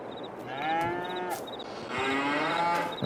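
Cows in Farming Simulator 22 give two long, drawn-out moos one after the other, loud and close, with a faint rhythmic tick in the background and no talking.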